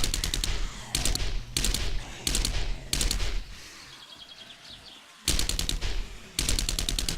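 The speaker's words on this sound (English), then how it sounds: "I took to using the submachine gun in this game" A submachine gun fires in the video game 7 Days to Die, sounding as loud, rapid automatic bursts that start and stop in several short volleys, with a quieter stretch between them.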